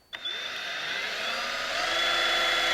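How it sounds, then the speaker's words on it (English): A power drill bores a hole through a kayak hull for mounting an accessory, its motor whine starting abruptly and holding steady, rising slightly as it cuts, loud and close with no voices. "take your power drill, line up on the hole you just drew"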